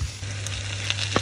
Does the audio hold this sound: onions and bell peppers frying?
yes